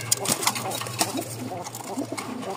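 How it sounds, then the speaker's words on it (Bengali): Pigeons in a coop coo with thin calls, soft repeated notes close by amid rustling and a steady background hum, with some talk in the clip. "এই ককার চিকন ডাক, খুব সুন্দর মাশাআল্লাহ"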